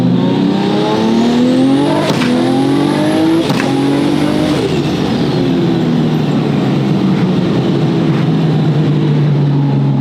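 A 1500 hp RB36-powered Nissan Skyline GT-R R34 with paddle shifting accelerates hard, its loud climbing engine note broken by quick upshifts, then fading into a lower drone as it pulls away.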